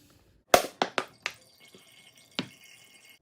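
Water glugging and dripping out of an upturned bottle being displaced by oil, a run of four quick, close, hollow plops followed by a softer drip and one final plop, in a quiet room.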